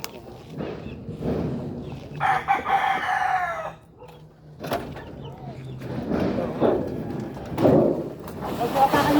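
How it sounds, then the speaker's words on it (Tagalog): Rooster crowing once loudly and close by in a residential subdivision, a long rising call standing out between stretches of people talking nearby. "Uy, manok."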